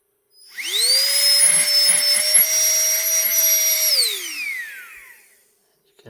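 A Nitecore BB Nano electronic blower running as a vacuum spins up to a loud, steady high-pitched whine, holds for about three seconds, then winds down and fades away, close and alone.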